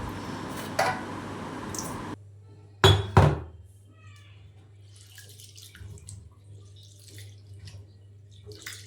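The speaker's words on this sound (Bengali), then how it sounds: "জল দিয়ে চালগুলোকে ভালো করে ধুয়ে নেব" Rice is washed in water in a bowl: splashing and sloshing at first, then a couple of sharp thunks and quieter scattered dribbles and swishes, close up with no talk.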